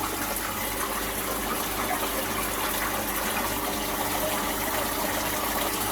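Strong water current gushes in a garden koi pond with newly added fish, a dense, continuous churning roar with a low pump-like hum beneath, steady and close with no voices.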